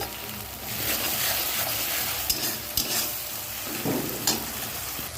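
Grated ginger fries in a pan of oil for an egg tarka, giving a steady close-up sizzle with a few sharper crackles and stirring scrapes.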